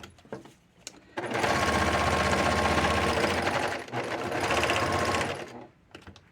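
Sewing machine stitching through book binding pages with red bobbin thread, running loud and close in two long bursts separated by a short pause, with faint handling noises before and after.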